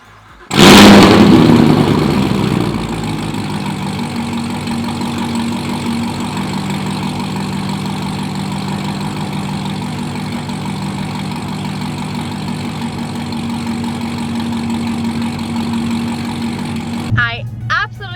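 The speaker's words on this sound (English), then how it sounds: "love how that cold start sounds" A Camaro ZL1 1LE running on E85 fires up from cold with a loud burst, then settles into a steady, deep, rumbling idle that holds close and strong for most of the clip before a brief blip near the end.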